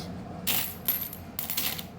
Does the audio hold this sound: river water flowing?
no